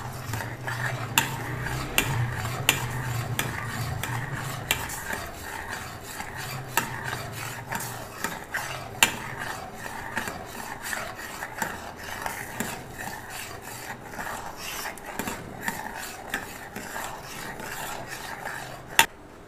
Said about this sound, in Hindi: बस इसमें मसलसल चमचा हिलाते जाना है कि इसमें लम्स ना बने।